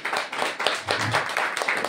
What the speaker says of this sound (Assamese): সকলোৱে হাত চাপৰি বজাই থাকিব